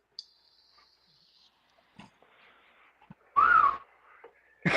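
A short, steady high whistle at the start, followed by faint rustling and a louder burst of bird-like chirping near the end.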